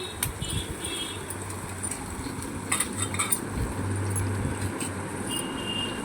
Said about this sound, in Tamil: கருவாடை போட்டு நல்லா கிண்டி விட்டுக்கலாம்.